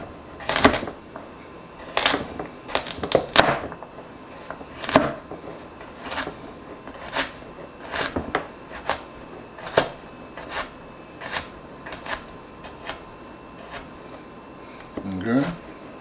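A kitchen knife chops carrots on a cutting board for a chicken cacciatore stew, giving sharp, close taps at an uneven pace of about one per second.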